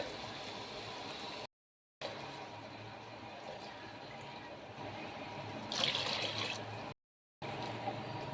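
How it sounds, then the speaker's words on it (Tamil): Coconut milk pours into uncooked rice in a pot while making coconut milk rice, giving a soft, steady liquid splash with a brief louder surge near the end and no talking. "ஒரு டம்ளர் அரிசிக்கு வந்து பார்த்தீங்கன்னா மூணு டம்ளர் தேங்காய் பால் வந்து நம்ம ஆட் பண்ணணும்"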